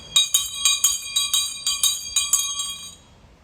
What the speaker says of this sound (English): I'm going to ring the bell to have you come on in